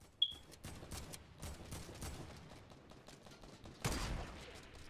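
Gunfire in the Fortnite video game comes as a quick volley of shots followed by scattered bursts, fairly faint and mixed with game noise, with no talking.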